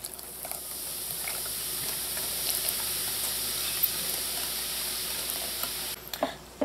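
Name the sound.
pouring a bottle of Guinness into spiced bun batter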